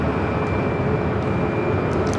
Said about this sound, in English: That is that Southwest flight heading to Chicago Midway